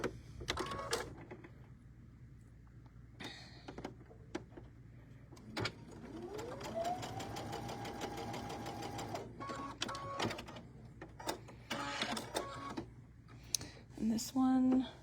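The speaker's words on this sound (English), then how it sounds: "we're going to stitch right down the center" A sewing machine stitches a diagonal seam across fabric pieces, ramping up into a steady rapid whirring run for a few seconds, with clicks and handling noises before and after.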